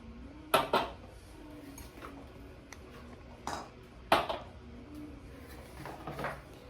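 Ceramic cup and saucer set down on a dining table in a few separate clinks and clatters, quiet and close, with gaps of stillness between them.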